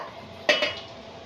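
Chopped cabbage, mixed vegetables and paneer get tossed together in a bowl, heard as two quick clinks of a spoon against the dish before things go quiet.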